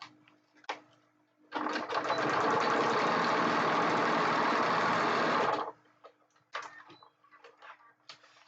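A sewing machine stitches a seam closed in one loud, steady burst of rapid mechanical whirring lasting about four seconds, with quieter handling noises before and after.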